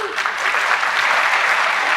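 A graduation crowd at the ITHS Class of 2023 ceremony claps loudly and continuously, a thick, even wash of many hands with no pause over the short span.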